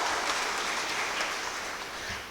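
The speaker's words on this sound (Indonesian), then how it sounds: "tepuk tangan untuk Yesus Kristus" Applause from a church congregation during a sermon, a steady dense wash of many hands clapping at moderate level, continuous throughout without speech.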